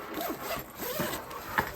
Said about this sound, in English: So we've also got a zipper here.